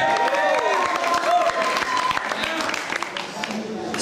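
A crowd at an MC battle cheers and applauds, loud clapping mixed with whoops and shouts, thinning slightly toward the end while a voice speaks over it.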